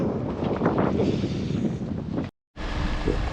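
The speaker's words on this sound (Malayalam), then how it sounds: "അതുപോലെ നല്ല കാറ്റുണ്ട്" Wind buffets the microphone at an outdoor Christmas market in Galway, Ireland, in light rain: a loud, continuous blustery rumble with one brief dropout.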